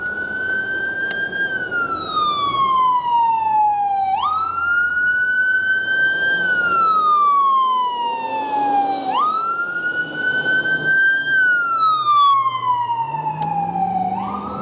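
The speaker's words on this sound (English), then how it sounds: "We got an ambulance coming." An ambulance siren wails in slow rising and falling sweeps, loud and close as it passes along a Washington, DC street, with road traffic rumbling underneath.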